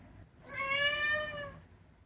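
A pet cat gives one clear, drawn-out meow lasting about a second, close and fairly loud over a quiet indoor background.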